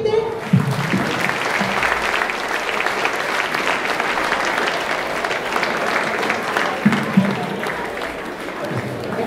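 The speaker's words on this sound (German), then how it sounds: "Applaus bitte." A crowd at a taekwondo demonstration at the 2016 Mindelstettener Markt applauds a club member who earned his second dan. Dense, steady clapping fills the whole stretch, with a voice briefly audible underneath.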